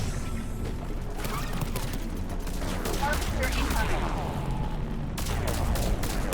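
Sustained gunfire crackles and rattles through a Mass Effect 3 battle, dense overlapping shots and impacts at moderate loudness with a brief spoken voice amid the fighting.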